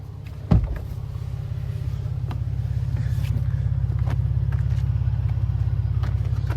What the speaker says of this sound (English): I'm gonna show you how the seat folds flat.